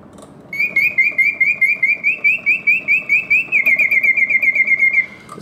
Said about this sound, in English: So the birds sing with full voice, hitting all of the proper oscillating notes.